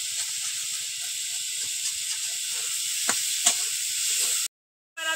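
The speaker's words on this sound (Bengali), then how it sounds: "এবার লবণ হলুদ দিয়ে ভালো করে কচুটাকে কষিয়ে নেব।" Taro (kochu) frying in a pan with salt and turmeric for a shrimp curry gives a steady, close, bright sizzle and hiss that runs unbroken, drops out briefly near the end, then resumes, with no talking.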